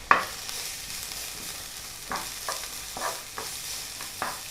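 Fresh garlic frying lightly in a small amount of oil, with a steady soft sizzle and a few brief stirring scrapes spaced across the stretch, fairly quiet and with no voices.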